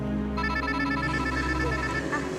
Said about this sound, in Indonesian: Sebentar saya angkat telepon dulu ya.